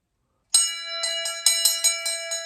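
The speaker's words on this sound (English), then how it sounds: "I just think it's a very old bell." An old brass bell with a handle rings loudly after a short silence, about eight bright, metallic strikes in a steady shaking rhythm, each leaving a sustained, shimmering tone, close by with no talk.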